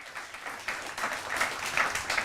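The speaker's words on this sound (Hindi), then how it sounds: "जोरदार तालियों के साथ स्वागत करिए" A studio audience applauds to welcome yoga guru Baba Ramdev onto a Hindi interview show: a steady, moderately loud wash of clapping that swells slightly toward the end, with no talk over it.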